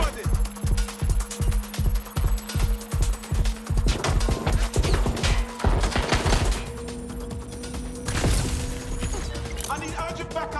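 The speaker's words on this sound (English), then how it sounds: "Shots fired!" Rhythmic, pulsing automatic fire and sharp impacts during a Watch Dogs: Legion firefight, loud and close, with shouted voices over it.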